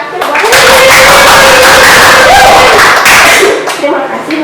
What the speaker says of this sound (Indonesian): Tepuk tangan terakhir buat